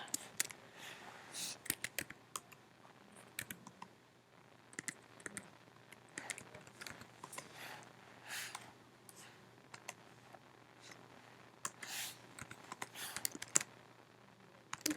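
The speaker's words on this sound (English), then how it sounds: "so I'm going to type in those ones" Typing on a computer keyboard, with irregular bursts of light key clicks spread across a long stretch, close but fairly quiet against a low background hum.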